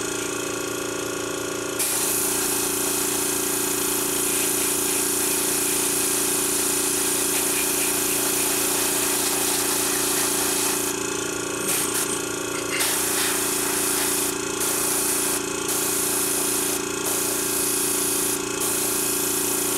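An airbrush sprays base color onto a model in a long, steady hiss with a constant compressor-like drone underneath, briefly broken by short pauses as the trigger is released near the end.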